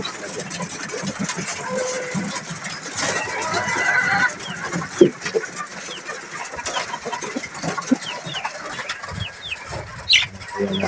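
Racing pigeons in their loft make soft, scattered calls and bursts of wing flapping, with a low engine hum and occasional background voices.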